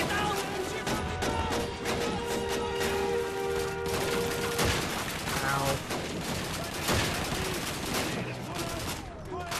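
MG-42 machine gun fire in the World War II shooter Call of Duty 2, with dense bursts of rapid gunshots and loud sharp cracks layered over battlefield noise and shouted voices.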